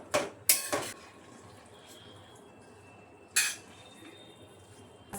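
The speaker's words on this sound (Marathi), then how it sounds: "आता ह्याला उकळी आली आहे थोडी आणि ह्याच्यात आता मी हा पास्ता टाकते" Pasta dropped into a pot of boiling water on a home stove, with a few sharp metallic clinks and rattles of the pot over a faint bubbling background.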